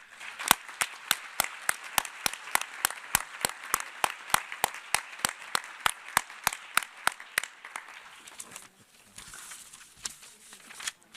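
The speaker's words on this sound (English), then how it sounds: "I just want to ask you to commend our panelists with a round of applause" A round of applause for panelists at a nuclear weapons ban treaty negotiation conference, sounding as sparse, evenly spaced claps from a few hands, fairly close, that fade into quiet room noise near the end.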